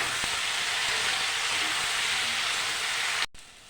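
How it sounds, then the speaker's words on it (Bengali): Mixed vegetables, including brinjal, fry in oil with salt and turmeric, giving a loud, even sizzling hiss close by that stops abruptly near the end. "সামান্য একটু লবণ আর হলুদ দিয়ে আমি ভালো করে ভেজে নেব"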